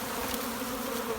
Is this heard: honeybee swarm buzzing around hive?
yes